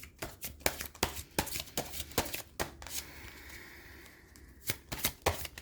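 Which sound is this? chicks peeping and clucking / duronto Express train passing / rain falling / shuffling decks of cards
shuffling decks of cards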